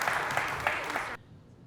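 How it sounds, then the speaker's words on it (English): Audience applause at a pitch competition, a short burst of clapping from the crowd that cuts off abruptly partway through, leaving near silence. "let's give him a round of applause"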